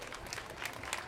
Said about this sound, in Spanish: Vamos a darles otro fuerte aplauso a